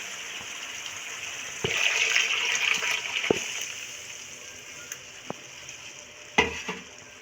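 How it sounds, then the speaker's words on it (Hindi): Water is poured into a yogurt and gram flour batter for Punjabi kadhi pakora, making a steady gushing splash for a few seconds, then softer stirring with a few sharp clinks; no one speaks. "और अब हम इसमें पानी डालेंगे।"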